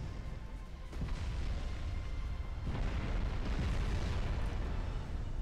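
Naval shells striking ships in the video game Ultimate Admiral Dreadnoughts during a convoy raid, heard as a dense, continuous rumble of overlapping blasts and booms that swells partway through and stays loud.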